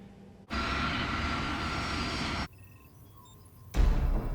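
A Crossair airliner approaching the Zurich Airport runway at night gives a steady, loud engine roar that cuts off abruptly, returns quieter and then swells strongly again, with no talking.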